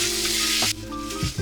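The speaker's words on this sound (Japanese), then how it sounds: "ある程度炒まったら玉ねぎを入れていって、しんなりするまでね炒めていきます。" Onions, bacon and garlic sautéing over low heat in a pan, a dense close sizzle that drops to a softer hiss partway through, with faint stirring scrapes near the end.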